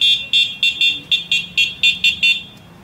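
An electric bike's horn sounds ten rapid, evenly spaced shrill electronic beeps, loud and close, then stops.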